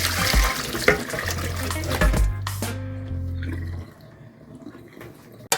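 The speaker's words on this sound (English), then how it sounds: "let's drain our mackerel" Water from soaked salt mackerel drains into a kitchen sink in a continuous splashing gush that cuts off partway through, leaving faint drips and room noise.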